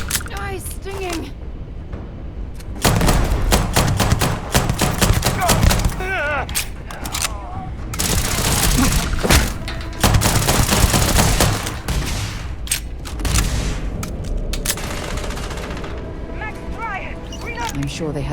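Dense sci-fi gunfire in a Starfield firefight: rapid shots and heavy bursts come in waves for most of the stretch, loud and close, with voices talking over the shooting.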